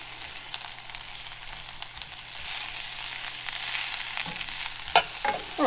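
Spinach softens in a pan over low heat with a gentle continuous sizzle, a few light utensil taps near the end, close by and fairly quiet, with no talking.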